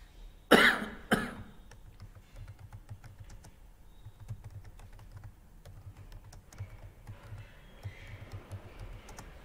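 Text being typed on a computer keyboard in a layout program, with a quick patter of close key clicks running steadily after a loud cough near the start.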